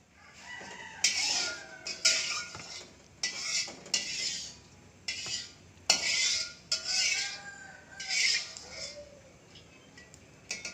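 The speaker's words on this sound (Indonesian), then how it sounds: "Selanjutnya yaitu kita menumis bumbu untuk isiannya." Spice paste for lumpia filling stir-fried in a pan: a steady run of sharp metallic scrapes and clinks from a utensil against the pan, about one per second, close and clear, with no talking.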